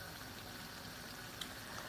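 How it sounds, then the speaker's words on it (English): Peanut butter paste boiling in a litre of water for potato leaf sauce, a faint steady bubbling simmer with no talk. "Boil in 1 liter of water for about 30 minutes."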